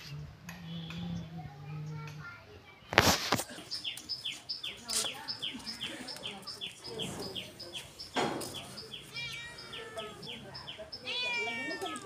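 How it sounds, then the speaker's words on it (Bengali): A cat meows repeatedly in a home kitchen during morning cooking, short mewing calls mixed with birds chirping outside, clattering utensils and people talking nearby. "আর ম্যাও এসছে, ম্যাও এসছে।"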